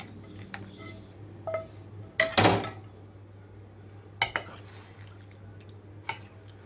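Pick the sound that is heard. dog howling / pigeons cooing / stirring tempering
stirring tempering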